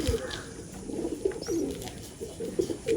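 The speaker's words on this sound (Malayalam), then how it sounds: "ആ സുർമയിൽ പച്ചത്തരിയുള്ള പ്രാവാണ് കേട്ടത്" A pigeon in a loft coos in low, soft, repeated bursts, fairly close, against faint background hiss.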